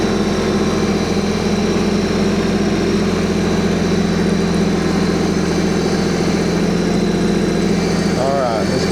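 A tractor engine idles steadily on gravel, a loud continuous low rumble with a constant drone throughout and no break.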